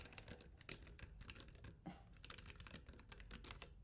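Rapid clicking keystrokes on a mechanical computer keyboard, a dense, irregular patter of crisp taps, close but quiet, with no voices.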